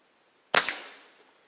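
A Crosman 2240 carbine air pistol fires once at a shotgun shell target outdoors, a single sharp crack with a quick second snap and short decaying tail, alone with no talk.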